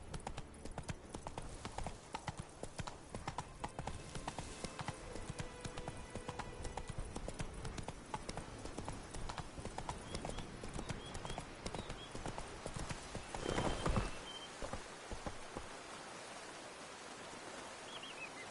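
A horse galloping in The Witcher 3 video game, its hooves clip-clopping in a fast, steady rhythm throughout, with a brief louder rush of noise near the end and faint voices at times.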